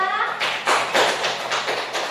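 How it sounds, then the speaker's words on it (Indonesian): Brief applause in a classroom for a presenting student group: a short burst of several people clapping in a quick, uneven patter that lasts about two seconds. "tepuk tangan untuk kelompok 2"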